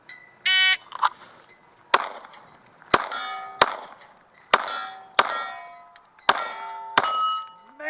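Shots from a KelTec PF9 pistol ring off steel targets in a match, giving about ten sharp metallic clangs at uneven intervals, each with a bright ringing decay, plus a short electronic beep near the start.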